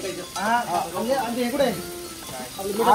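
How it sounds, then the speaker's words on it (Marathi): Onion and Maggi masala fry and sizzle in a pan at a street food stall, a steady close hiss with stirring scrapes, while someone talks loudly over it throughout. "अब ये फ्राई होगा."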